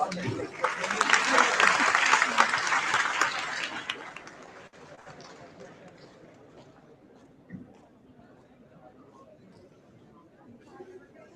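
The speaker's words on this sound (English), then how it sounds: "Ladies and gentlemen, a big round of applause." An audience at a national student symposium applauds a speaker with loud clapping that peaks early and fades after about four seconds, followed by quieter room murmur and chatter.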